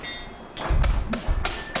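Copper nails are hammered into a horse's hoof during shoeing, giving a few sharp metallic strikes spaced irregularly over a low background rumble.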